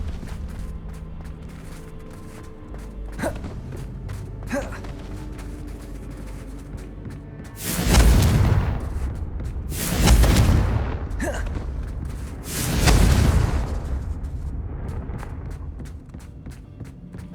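Confringo explosive spell in Hogwarts Legacy gameplay, three loud booming blasts spaced a couple of seconds apart, preceded by lighter footsteps and smaller impacts.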